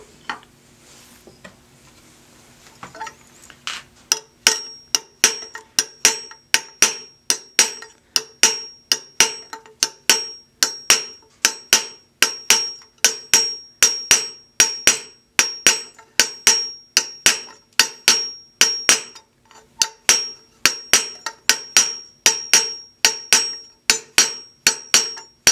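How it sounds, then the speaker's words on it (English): A raising hammer strikes a copper beaker in a steady, rapid rhythm, each blow ringing bright and metallic, dozens of close, loud strikes after a brief quiet start. "I'll just begin to raise with the raising hammer."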